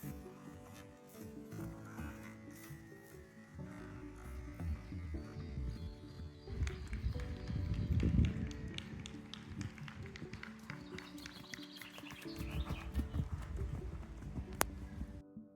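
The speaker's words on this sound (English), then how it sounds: "here we see the ridden heavy horse class." Heavy horses trot under riders in a ridden show class at an agricultural show, their hooves clip-clopping steadily and at moderate distance over a low outdoor background.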